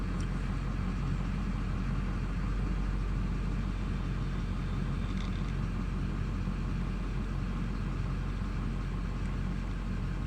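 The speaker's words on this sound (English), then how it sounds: "You can see the fan down there spinning" HVAC blower fan running in a GMC 2500HD cabin on recirculate, with a blend door fault; a steady, even whooshing hum continues unbroken from start to end.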